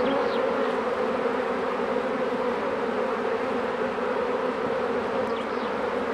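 A primary honeybee swarm led by a virgin queen, a dense continuous buzz of many bees droning steadily close by, with no voices.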